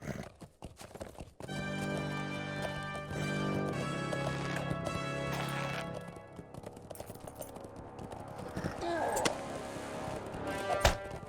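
Horse hooves clip-clop at a gallop in the LOTRO fantasy online game, with neighs and whinnies rising over the rhythmic beats, moderately loud and close, without speech.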